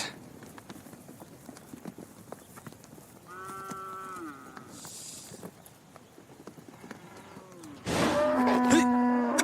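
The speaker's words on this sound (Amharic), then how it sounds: "ይህች ላም በጣም ጠበኛ ነች።" A cow that has just calved, aggressive and separated from her calf, gives a drawn-out moo, then a louder, closer bellow near the end, over low background noise.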